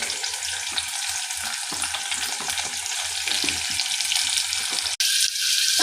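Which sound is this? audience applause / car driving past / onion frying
onion frying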